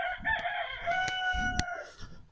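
A farm rooster crows close by, one long, clear, drawn-out call, with a few brief clucks and scuffs from other chickens around it.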